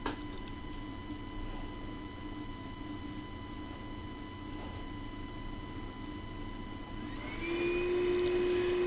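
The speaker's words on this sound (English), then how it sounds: "Here I'm using a shop vacuum to expose an underground seed chamber." A shop vacuum runs steadily as it digs out an underground seed chamber of a hunter-gatherer ant nest, a continuous whining drone with faint scraping, rising in pitch and loudness near the end as the suction strains.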